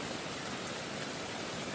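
Heavy rain pours on a campsite beside a river, where the tent is already flooded; a dense, steady hiss runs unbroken and fairly loud, with no voices.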